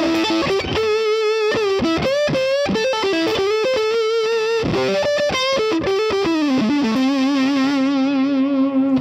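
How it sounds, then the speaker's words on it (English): Fender Eric Johnson Virginia Stratocaster electric guitar played through a fuzz pedal, a thick, sustained, saturated lead line with bends and quick runs, loud and continuous throughout. "let's move to a couple different settings with the fuzz, just to you can hear it with using it with the fuzz"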